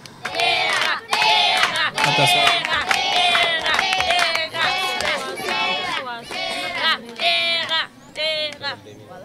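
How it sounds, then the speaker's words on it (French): A large crowd cheers and shouts excitedly at a school event in Maroua, Cameroon, with loud sustained voices rising and falling throughout; clapping is not distinct beneath the shouting. "On applaudit pour Tera."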